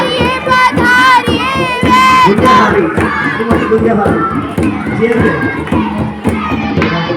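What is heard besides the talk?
children shouting and cheering at a school ceremony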